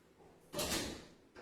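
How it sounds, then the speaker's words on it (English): A hotel room door in Cancun swings open with a short, fairly loud rush of mechanical noise in the middle, then quieter handling sounds at either end, with no talking. "can you open the door?"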